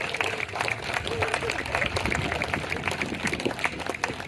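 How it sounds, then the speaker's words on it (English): Audience at a sheep show clapping for nine sheep breeds on stage, a dense continuous round of applause with crowd noise, fairly close and steady throughout. "can I have a big round of applause for the 9 breeds of sheep that we have here on this stage"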